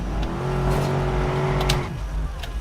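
Car engine in the Watch_Dogs video game holding a steady revving drone while driving, with brief higher whooshes, then easing off near the end; loud and close, no talk.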